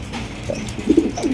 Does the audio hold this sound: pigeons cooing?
yes